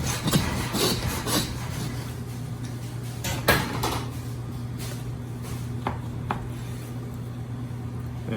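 A butcher's knife cutting through pork loin into loin chops, with scraping, rubbing strokes and occasional knocks against a board over a steady background hum.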